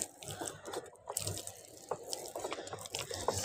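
Water splashing and trickling in short uneven bursts onto a potted plant, with scattered drips, close by and moderately loud.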